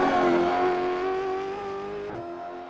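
A Gen 3 Supercars Ford Mustang in iRacing revs high with a whiny, harmonic engine note that holds steady, then dips briefly as it shifts near the end, loud and close.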